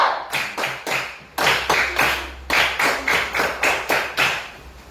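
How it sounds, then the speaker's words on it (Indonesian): Students in a class clap in a steady rhythmic pattern, sharp regular bursts of hand claps repeating clearly and close, with little voice beneath. "kita tepuk semangat dulu"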